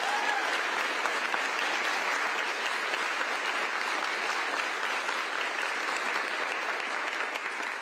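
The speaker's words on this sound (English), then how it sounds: "How about a round of applause for everybody who's been involved in this work?" A crowd at a Washington state bill signing for an environmental justice law applauds in a long, steady, unbroken wash of clapping.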